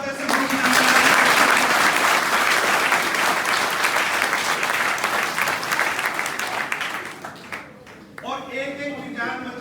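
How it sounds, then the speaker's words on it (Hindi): An audience claps loudly together at a road-safety event, dense sustained applause that swells early, fades after about seven seconds, then gives way to a speaking voice. "चलो सबसे पहले एक बार जोरदार ताली बजाओ माता से"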